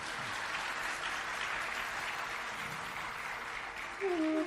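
Sustained audience applause at a Ram Katha religious discourse on the Ayodhya Kand, a dense steady wash of clapping with faint voices mixed in and a brief tonal sound near the end.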